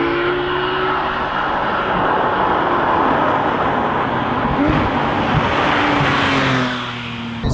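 A Porsche 911 GT3 Touring engine roars steadily while driving, heard from inside the car, its pitch climbing and shifting through gears, loud and sustained before easing off near the end.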